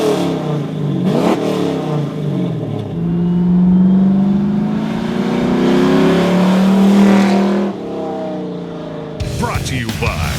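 A 1967-1972 Chevy C10 truck fitted with a Flowmaster American Thunder exhaust revs up loudly, its deep engine note rising and holding for several seconds before easing off, close and dominant.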